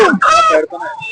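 A chicken being offered for sale at a market gives a short, loud, close cluck-like call lasting about a second, with voices present around it.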